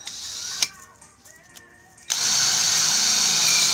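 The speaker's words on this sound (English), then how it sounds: "and then you start the drilling" An INGCO power drill starts up and whirs steadily at close range after a brief quiet stretch with a few clicks, the high continuous motor whine holding loud to the end.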